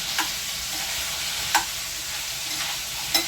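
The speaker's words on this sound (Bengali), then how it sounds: "সুতরাং আলুটাকে ভালো করে একটু ভাজতে হবে" Potatoes frying in oil in a pan, a loud, even sizzle close up with a few brief stirring scrapes and clicks breaking through, no voices.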